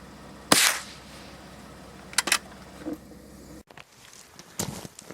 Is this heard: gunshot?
yes